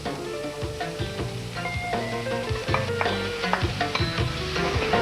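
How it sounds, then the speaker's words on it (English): Mushrooms sweat in a pan with red onion, a soft steady sizzle with occasional brief pops and scrapes of stirring, close but fairly quiet, with no talking. "And I'm going to sweat off my mushrooms"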